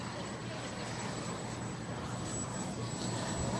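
A giant 3.4 m Global Jet Club Viper Jet radio-controlled model flying circuits in a strong crosswind at a Florida jet event, a steady, moderately distant turbine roar with a thin high whine throughout.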